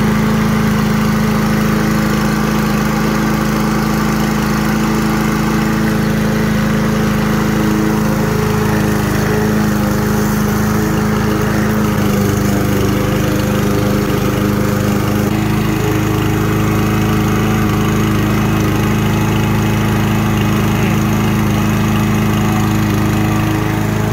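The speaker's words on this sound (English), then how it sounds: "let's mow." Craftsman M270 lawn mower engine running steadily while mowing, a loud, close, continuous drone with a constant pitch and no talk.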